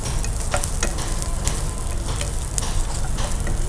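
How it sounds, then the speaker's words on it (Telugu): Cauliflower florets for gobhi maharani frying in hot oil, a loud, dense, steady sizzle with stirring clicks and scrapes throughout, no voices. "ఇలా ఈ విధంగా మనం వేసిన పువ్వులన్నీ కూడా మంచిగా ఫ్రై"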